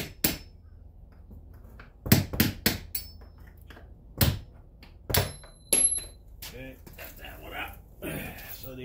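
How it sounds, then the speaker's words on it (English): Hammer striking a metal punch to drive out an exterior door hinge pin, several sharp separate taps, some in quick pairs, between stretches of talk. "you're going to take this punch and you're going to have to try to get it right there and use your hammer to pull it up"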